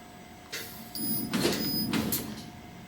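A laser cutter engraves holes into a custom metal logo, giving a few short buzzing and hissing bursts over a steady machine hum.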